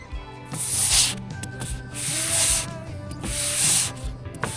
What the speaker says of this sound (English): The ridge at the peak was then sanded with a much larger block than before